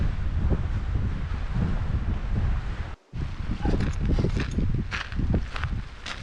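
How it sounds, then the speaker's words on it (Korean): Strong wind sweeps through a Jeju campsite among tall cedar trees, roaring and buffeting the microphone in heavy gusts, with one brief lull near the middle before the blasts return. "주변에 나무가 많아서 바람이 약할 것 같지만 강했다"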